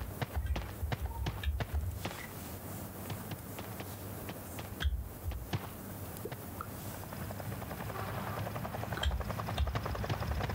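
Rhythmic low thudding rotor chop of a helicopter in the game Sausage Man, steady and fairly close, mixed with quick footstep-like taps and sporadic game noises.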